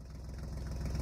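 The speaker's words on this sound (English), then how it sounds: "That's a big old Massey Ferguson cranking up and getting ready for another day of work" A big Massey Ferguson tractor engine cranking up, a steady low rhythmic chugging with regular pulses, continuous and moderately loud with no talk over it.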